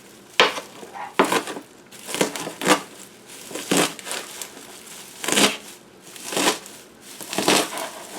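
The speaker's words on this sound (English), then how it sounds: "And we want to chop it." Fresh cleavers herb being chopped with a knife on a board, a series of irregular crisp chops and rustling cuts, close and fairly loud, with no talking.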